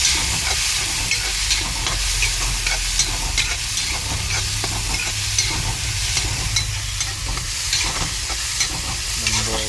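Onions sautéing in a pan for Tamil egg gravy produce a continuous, even sizzle and hiss, close and loud, with light stirring scrapes throughout and a low background hum, no voices.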